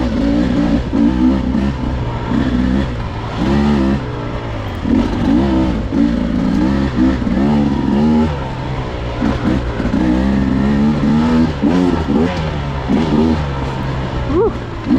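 A 2023 Beta 250 dirt bike engine revs up and down while riding at a demo day, a loud buzzing two-wheeler drone rising and falling continuously through the whole stretch.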